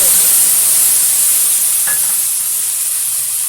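Whole cumin, a hand-ground paste of cumin, ginger and chilli, and chopped tomato hit hot oil in a kadai, giving a steady loud hiss that eases slightly toward the end, with no voices.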